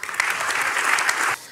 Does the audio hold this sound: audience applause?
yes